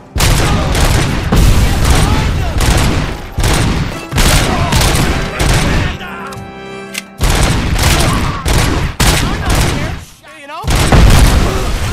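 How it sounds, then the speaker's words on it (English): Dense bursts of gunfire in a game set during a bank robbery, rapid repeated shots and booming blasts filling most of the stretch, with a brief lull in the middle and excited talk over the shooting. "Yo, this gun is awesome."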